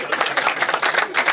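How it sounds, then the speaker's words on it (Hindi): Audience at a Hindi comedy poetry show claps in a dense, steady burst of applause, loud and close, with no speech over it. "जोरदार तालियां बजा दो।"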